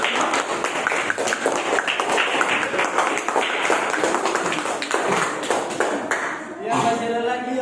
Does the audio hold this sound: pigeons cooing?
no